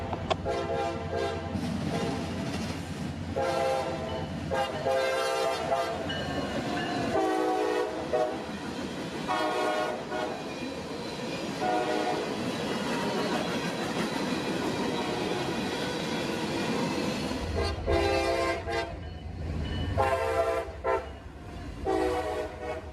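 A CSX local freight train in Central Florida, heading south toward Tampa, roars past at speed, loud and close, with a steady rumble, rhythmic wheel clatter and several horn blasts over the passing cars.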